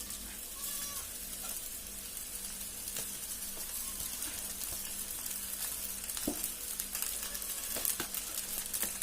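Crumbled kurdai dropped into a pan with onion and a pinch of asafoetida, frying with a soft, steady sizzle and occasional scraping stirs, fairly quiet and close, with no one talking.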